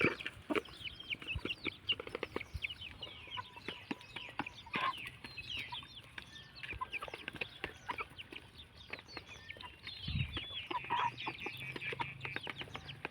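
Several chickens, including young laying hens, cluck and chatter busily close by while eating duck feed, a dense stream of short calls with occasional pecking and rustling, and no talking.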